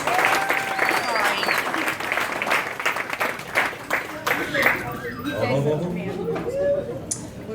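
Audience applause at a stage hypnosis show, bursts of clapping from the crowd that gradually thin out while someone talks over and after them.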